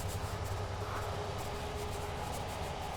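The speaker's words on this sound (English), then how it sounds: "There's a train coming by." A train rolls past outdoors, a steady broad rumble and hiss with no breaks, fairly loud and close during a walk.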